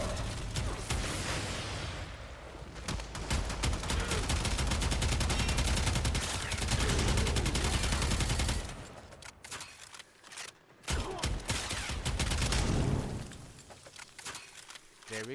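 Twin Kohmak guns in Warframe fire in long, rapid, loud sustained bursts that briefly cut out and then resume, with someone talking quietly underneath.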